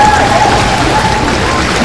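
Steady rain falls on a surface outside an art museum on a wet day, a dense, continuous hiss of drops that stays loud and even throughout, with a faint thin tone running along beneath it.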